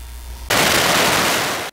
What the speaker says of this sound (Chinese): 每逢元宵节一到，台东市街道炮声隆隆